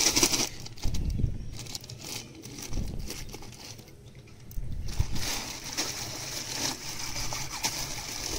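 Zeolite stones are poured into a well water filter with gritty, crunching rattles and patter. The bursts come in uneven clusters at moderate loudness.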